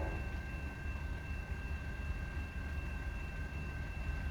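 A Canadian National train rolling past, a continuous low rumble of wheels and engine with a faint steady high whine, sustained and unbroken, heard alone.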